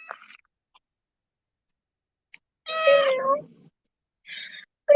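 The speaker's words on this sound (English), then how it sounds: "A little orange Halloween cat came to say hi." A small orange cat lets out one clear, close meow in otherwise quiet surroundings, with a few faint short chirps before and after it.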